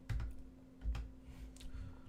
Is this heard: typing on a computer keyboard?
yes